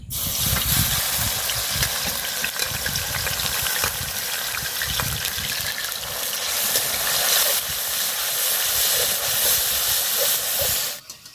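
Spices and dried fish sizzle loudly in a frying pan, a steady close hiss with crackling throughout that cuts off abruptly near the end.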